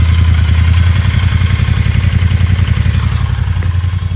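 A 2020 Triumph Bonneville T120 engine idles close up with a loud, steady low-pitched throb, its even rapid pulses running throughout with a slight mechanical clatter on top.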